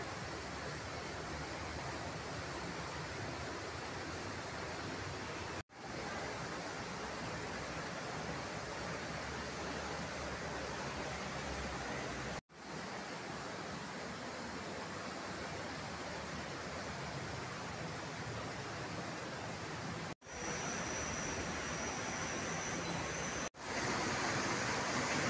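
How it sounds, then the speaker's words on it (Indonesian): Steady rushing of river water flowing beside a roadside restaurant in Krasak, Wonosobo, a continuous broadband wash heard alone without voices, broken only by a few brief cuts in the recording. "Rumah makan ini letaknya persis di pinggir sungai sehingga terdengar gemerici air yang mengalir."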